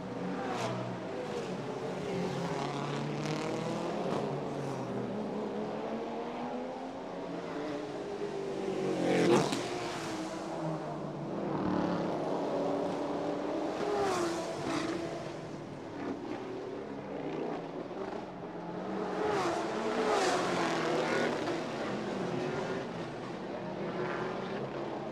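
Race cars, among them a Mustang, run a street circuit in Chonburi, Thailand, during a Thailand Super Series 2017 round. Several engine passes rise and fade at mid distance with revving and gear changes, and a steady roar sits underneath.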